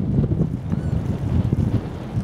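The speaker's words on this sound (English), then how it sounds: "Wind's blowing right up across this water." Strong wind buffets across open water at Titchwell on the Norfolk coast, a loud gusty rumble with lapping waves underneath, no voices.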